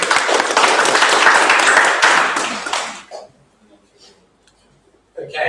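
An audience at a candidates' question time event gives a dense round of applause lasting about three seconds, then it fades into near silence before a voice starts speaking.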